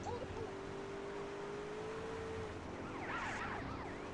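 A police car siren in GTA wails steadily at moderate distance over a continuous engine and traffic rumble, with a rising, warbling burst of siren near the end.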